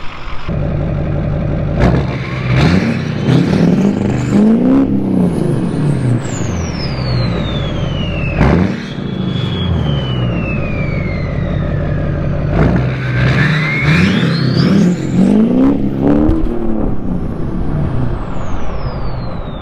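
A Chevy Silverado 2500HD pickup with a 696 HP Duramax diesel accelerates while driving, its engine revving upward and dropping back at each gear change, loud and close throughout.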